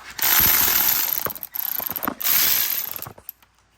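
A hand ratchet clicks rapidly in bursts while cracking loose 17 mm bolts during a clutch job on a Honda Civic Mugen Si, with close, loud runs of pawl clicks separated by short pauses.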